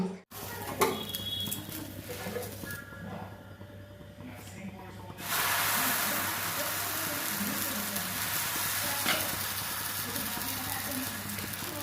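Rice-flour batter for sorchakli pitha hits a hot pan and sets up a steady, hissing sizzle that grows louder partway through and continues evenly, with some talking over it.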